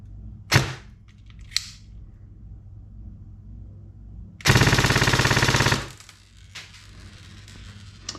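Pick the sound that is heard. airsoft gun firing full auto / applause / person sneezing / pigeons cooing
airsoft gun firing full auto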